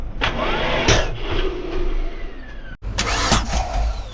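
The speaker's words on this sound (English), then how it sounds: "Yeah, it's got a backfiring problem." A 1995 Ford one-ton truck with the 5.8 351 engine cranks and catches roughly, firing loud, sharp backfires as it sputters and surges close by.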